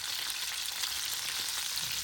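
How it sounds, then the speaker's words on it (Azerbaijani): Chicken wings fry a second time in hot oil in a pan, giving a dense, even crackling sizzle that carries on without a break and stays fairly quiet, with no voices. "İndi isə həmin tavada, həmin yağın içində təzədən qızardırıq hər iki tərəfdən."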